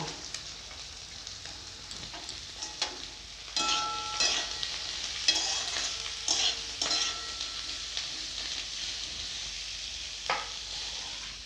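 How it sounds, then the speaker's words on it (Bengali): Cut long beans and carrots fry in a pan with a continuous bright sizzle, broken by repeated clatters of a spatula stirring and scraping, loud and close with no talk. "এগুলো ভাজা হয়ে গেছে"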